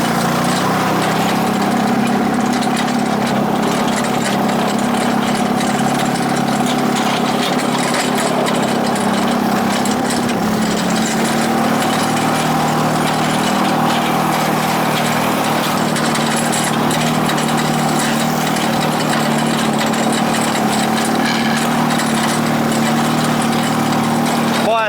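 A Bolens GroundsKeeper garden tractor engine runs with a steady mid-pitched drone, loud and close and unbroken throughout, while a person talks over it.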